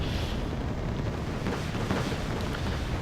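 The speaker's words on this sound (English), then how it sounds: "just rockets, cannons, firing everywhere" Rockets and cannons firing in a battle in the Wargame AirLand Battle video game, a dense, continuous rumble of blasts and booms merging into a heavy low roar, with no talk.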